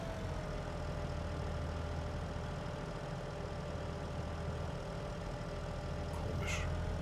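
Tractor engine idling in Farming Simulator 22: a steady, continuous low rumble with a faint higher tone, holding even throughout with no voices.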